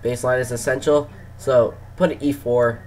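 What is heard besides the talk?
None of the usual background noises is heard.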